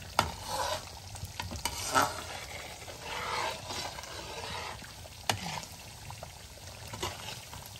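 Coconut milk simmers and reduces in a pot into coconut oil and latik, with steady bubbling sizzle and intermittent stirring scrapes heard alone at moderate volume.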